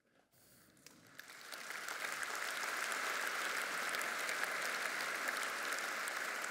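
Crowd at a D66 political party congress bursting into applause, starting faint and building over a couple of seconds into sustained, dense clapping that stays full and even in a large hall.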